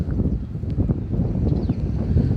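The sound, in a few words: wind blowing at a fish quay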